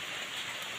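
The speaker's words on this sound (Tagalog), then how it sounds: "Tapos, sobrang ulan pala dito sa amin." Heavy rain falls in a dense, unbroken roar with no pauses or other sounds over it.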